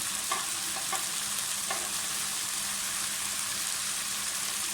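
Vegetables and cabbage for restaurant-style chicken fried rice stir-frying in a hot pan, a close, steady sizzle with a few scraping stirs near the start, no voices.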